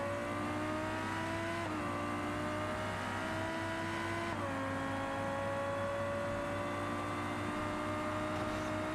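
A car accelerates hard in BeamNG Drive, its engine note rising steadily in pitch with two brief dips like gear shifts, loud and continuous with no talk.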